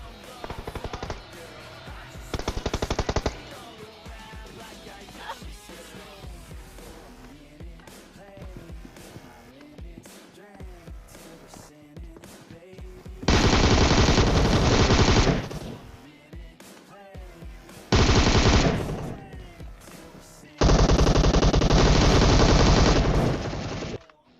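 Automatic gunfire in the mobile game PUBG Mobile comes in several long, loud bursts of rapid shots, separated by quieter stretches of in-game ambience and movement.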